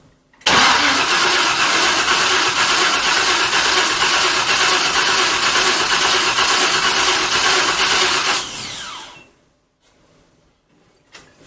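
A loud, steady mechanical whirring roar of a 4.8 LS V8 swapped into a Miata being primed and cranked, runs for about eight seconds, then winds down and stops, leaving quiet.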